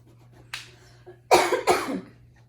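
A single person coughs twice in quick succession, close and fairly loud, after a softer breathy sound in a quiet room.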